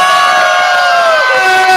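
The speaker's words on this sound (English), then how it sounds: "So in 3, 2, 1, we're gonna just cheer real loud." A panel audience cheers loudly together in one sustained, massed whoop that fills the room at close range.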